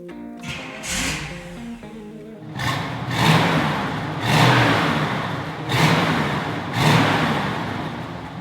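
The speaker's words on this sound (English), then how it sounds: "how about I start it up for you so you can hear what it sounds like?" A 1967 Pontiac Firebird 400 V8 cranks and fires up, then is revved repeatedly in four loud, rising-and-falling surges over a rumbling idle, close by.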